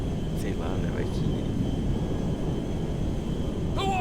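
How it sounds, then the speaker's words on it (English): Jet aircraft in Grand Theft Auto 5, a steady broadband roar of engine and rushing air filling the clip at constant loudness, with faint voice fragments briefly over it. "I got the jet."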